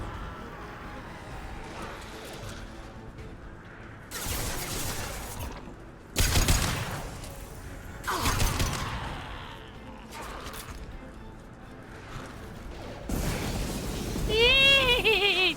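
Mass Effect 2 combat gunfire arrives in several loud bursts separated by quieter stretches of ambient game sound, and each volley is sharp and close.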